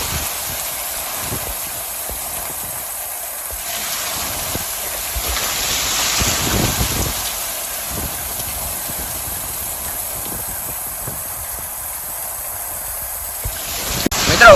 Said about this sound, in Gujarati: હવે અટાણે જો વરસાદ મિત્રો ફૂલ એટલે ફૂલ ચાલુ થઈ ગયો છે.